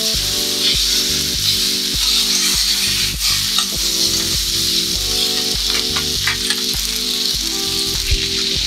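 Napolitan pasta ingredients stir-fried separately in a pan, a steady bright sizzle with a tool scraping and tossing in a regular rhythm throughout, close and fairly loud, with no talking.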